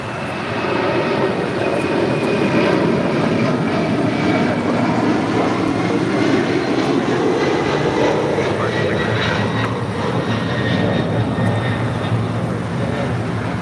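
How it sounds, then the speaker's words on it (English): A Delta Boeing 767-300ER jet bound for JFK takes off at LAX, its engines roaring in a loud, sustained rumble that builds and swells, then slowly eases as the aircraft climbs away. "688 taking off to JFK on a 767-300 ER"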